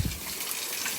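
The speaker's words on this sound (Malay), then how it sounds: "Airnya terjun dari atas batu sana." Water pours from the golden spout at Pancuran Mas, a steady rushing gush heard close and continuous with no voices.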